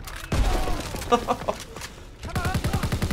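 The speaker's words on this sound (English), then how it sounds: "Have a grenade." A grenade goes off in Call of Duty: WW2 as a loud, broad burst at the start, followed by rattling gunfire and other battle noise in a dense game mix.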